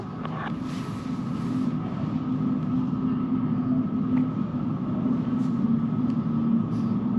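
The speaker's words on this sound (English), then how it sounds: "I hear a rumble of a train" Deep, steady rumble of a London Underground train at Whitechapel station, heard from inside the station as a continuous loud roar that holds evenly throughout with no voices.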